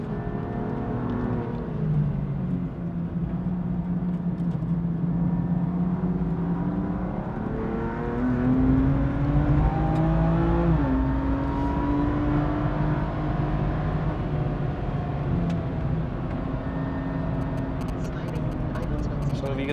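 A car lapping the Bilster Berg race track on a track day, its engine droning steadily with rising and falling revs as it shifts down and accelerates, heard from inside the cabin while someone talks over it.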